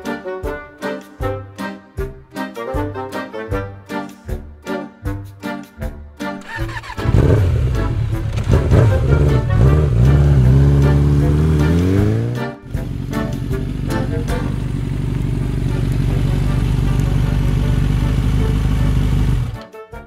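A motorcycle engine cranks with a series of rhythmic starter pulses, catches and revs up loudly, then settles into a steady running drone as the bike rides off. No one speaks over it.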